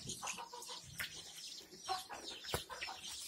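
Kadaknath chickens cluck on a chicken farm in Odisha, a few soft, quiet calls scattered over a faint background.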